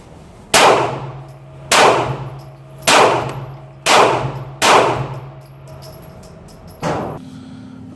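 Smith & Wesson SD9VE 9mm pistol with a ported barrel and red dot sight firing six sharp, loud shots at irregular intervals of about one second, each with a short ringing tail, and no talking.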